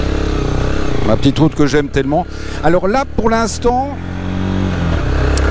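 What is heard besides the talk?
motorcycle engine while riding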